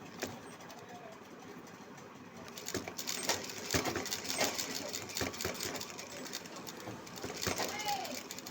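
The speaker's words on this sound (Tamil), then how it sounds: "இந்த ஓரப்பகுதியில் ஒரு படிமான தையல் வந்து போட்டுட்டு" A sewing machine stitches along the edge of a V-neck blouse in short bursts of quiet rapid clatter, with clicks and fabric handling between runs and a voice talking softly.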